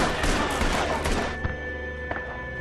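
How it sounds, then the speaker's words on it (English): Gunfire trades back and forth during a film shootout, a dense burst of loud, overlapping shots followed by a few sparser, isolated cracks, with no talking. "Shots go back and forth as if there's a conversation"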